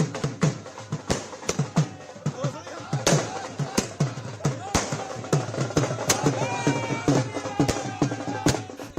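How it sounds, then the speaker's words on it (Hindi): Firecrackers and fireworks burst in rapid irregular sharp cracks at a political party supporters' celebration after candidate list announcement, with crowd chatter beneath, loud and sustained throughout. "कहीं आतिशबाजी"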